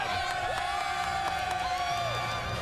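A sellout stadium crowd cheers before kickoff of a Notre Dame versus Arizona State college football game, a dense, distant wash of shouts and whoops rising on a sunny day, without clear speech on top.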